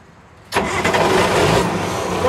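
A 30,000-pound Clark forklift engine cranks and catches abruptly after half a second of quiet, then runs steadily at a loud, close idle with no talking.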